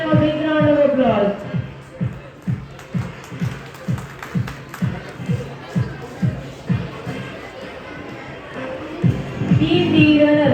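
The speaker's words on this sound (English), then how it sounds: "Please give them a big round of applause." Audience at a summer camp closing ceremony clapping in a steady rhythmic beat, evenly spaced claps repeating for several seconds with crowd murmur around them, and a voice speaking at the start and end.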